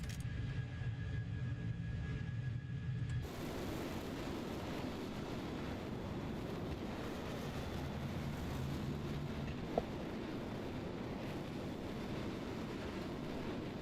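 The twin engines of an OV-10 Bronco in Microsoft Flight Simulator 2020 throttle up from a low idle hum into a steady, broad roar that holds evenly for ten seconds or so.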